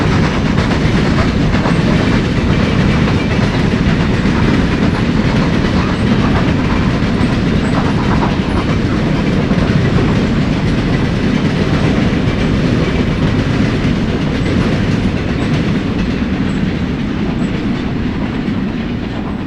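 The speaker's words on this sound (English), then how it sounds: "A 282 pulls a westbound local freight." A 1950s B&O 2-8-2 steam locomotive hauls a westbound local freight through Butler, Pennsylvania, with a loud, unbroken roar of rolling wheels and clickety-clack rail joints at close range and no voices.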